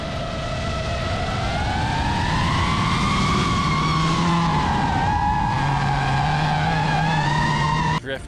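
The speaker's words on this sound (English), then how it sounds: "Drifting." A car drifting on the Dirtfish rally course: a long, loud, sustained tire squeal wavers in pitch over a steady engine drone, ending with an abrupt cut.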